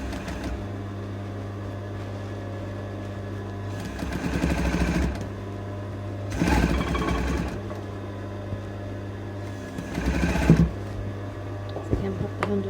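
A sewing machine stitches the lining of a strapless dress, running in three or four separate whirring bursts of a few seconds each between quieter pauses.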